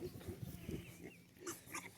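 Pigs on a farm grunt and snuffle up close in quick, low bursts, with a few brief higher squeals toward the end.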